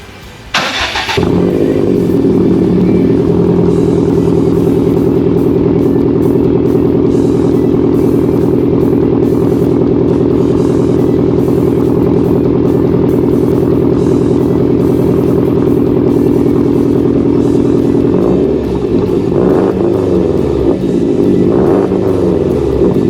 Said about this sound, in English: I am gonna give you a start up here, and let us listen to some noises.